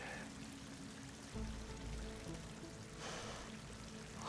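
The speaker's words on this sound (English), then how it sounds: "Water's coming in." Water pouring in with a steady low rushing and trickling inside an enclosed space in the video game Horizon Forbidden West, faint and continuous, swelling slightly partway through.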